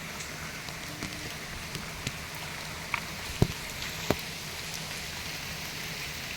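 Steady monsoon rain falls with a constant soft hiss, and a few louder drops tap nearby now and then.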